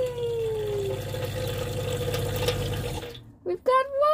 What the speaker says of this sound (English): We've got water! So that's it, there's water. So that's the air out of the pump.